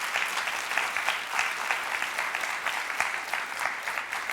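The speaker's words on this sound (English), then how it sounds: "The audience is clapping" A crowd applauds steadily, dense clapping holding an even level throughout with no voices over it.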